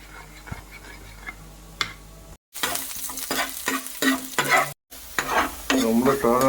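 Three eggs fry with onion, garlic and green chilli in a hot pan, a close crackling sizzle broken by repeated stirring and scraping strokes and two brief silences.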